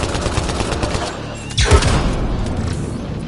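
Gunfire in the sci-fi shooter Mass Effect Andromeda, a dense rattle of weapon fire with a heavier thump near the middle, loud and continuous behind the action.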